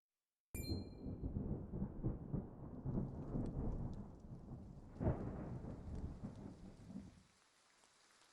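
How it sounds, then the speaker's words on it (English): Rain and thunder in the video game Triangle Strategy: a chime opens into a loud, steady downpour with a deep thunder rumble midway, then the rain cuts off abruptly near the end. "Rain! Honest to goodness, rain!"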